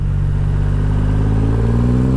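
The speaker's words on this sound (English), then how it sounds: "Third gear, that's a little bit vibey at these lower revs," Triumph Rocket 3 GT motorcycle pulling in third gear at low revs, a deep, steady throbbing engine drone with slowly rising pitch, close and continuous with no talk.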